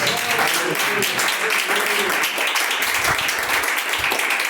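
Congregation clapping during a live church service, steady dense applause lasting several seconds at close range, with a voice faintly present underneath.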